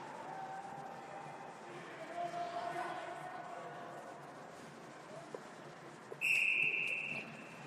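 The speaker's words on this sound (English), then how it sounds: "He'll hold it for a whistle." A referee's whistle gives one sharp, loud blast near the end at a youth hockey game, after a stretch of arena crowd noise and commentary talk.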